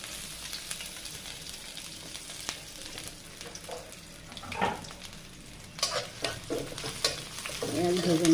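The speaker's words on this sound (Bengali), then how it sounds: "পেঁয়াজ ভেজে নেব।" Chopped onions hitting hot oil in a pan, a steady sizzle with intermittent stirring scrapes and bursts of louder frying toward the end, close and alone without talk.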